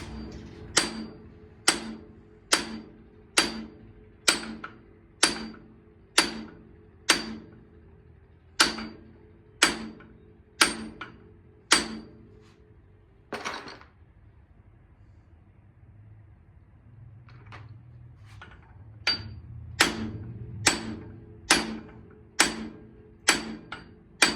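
A Massey tractor engine idling, tuned to sound like a Bullet motorcycle, with slow, evenly spaced sharp thumps; they pause briefly under a low rumble before resuming at the same steady beat, close, with no talking.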